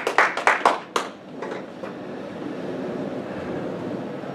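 Church congregation claps in a few sharp, separate bursts that quickly thin out, leaving a low murmuring room tone with scattered faint claps.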